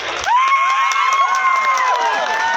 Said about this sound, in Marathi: प्रचंड जल्लोष प्रचंड उत्साह